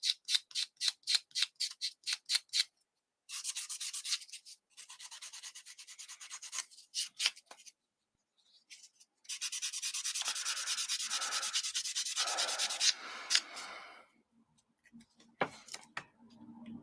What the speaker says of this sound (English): Let's get a little bit of a little sand on that.